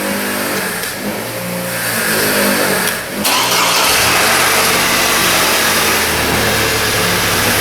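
A Chevy Colorado engine cranks and catches, dips briefly, then settles into a loud, steady close running drone in a workshop, heard without talk.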